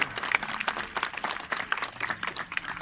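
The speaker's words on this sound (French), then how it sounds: "On peut l'applaudir bien fort." Spectators at a dolphin show in a wildlife park clap in a lively, uneven patter of many hands, loud and close, with a few scattered voices among them.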